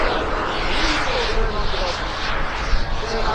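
Jet aircraft pulling up during an airshow display at Middelburg, Mpumalanga, South Africa: a loud, continuous broadband engine roar with a shifting whoosh as the plane climbs, sustained across the whole moment.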